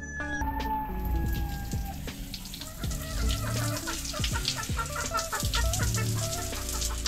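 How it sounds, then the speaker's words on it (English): A rooster clucks and crows close by, repeated calls over a steady patter of rain, with no one speaking. "I think the rooster might be trying to get in here."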